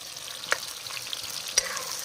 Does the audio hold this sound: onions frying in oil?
yes